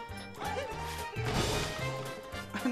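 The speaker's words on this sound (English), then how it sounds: "Maybe we should stop smashing the boxes." Boxes smash with a loud crashing thwack in the video game Super Mario 3D Land, a sharp burst in the middle over steady game music with bouncing tones.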